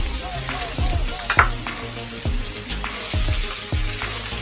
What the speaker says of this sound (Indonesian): Akan tumis dulu bawang putih dan bawang merahnya.